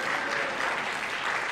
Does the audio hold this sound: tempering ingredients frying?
no